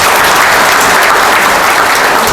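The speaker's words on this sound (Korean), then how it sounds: "세 분께 특히 박수 한번 보내주십시오" Loud, continuous clapping from a forum audience in the National Assembly members' hall, a thick unbroken wash of hands that holds steady throughout without any talking.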